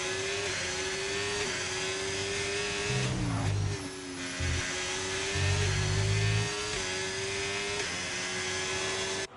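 A Ferrari race car engine screams steadily through a fast lap in a racing game, its high whine holding pitch with brief dips for gear changes, while a commentator speaks over it.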